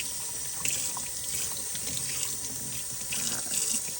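Tap water runs steadily into a dye bin, washing excess dye powder down the sides into the dye bath; a close, continuous splashing stream with small gurgles and no voices.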